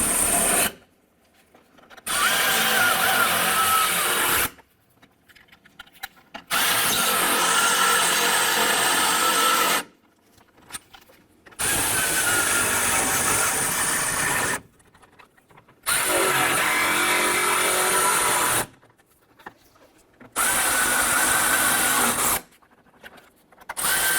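A power tool snugs down bolts on the header panel of a 1993-1997 Ford Ranger. It runs in about six loud, harsh bursts of a few seconds each, separated by short silent gaps.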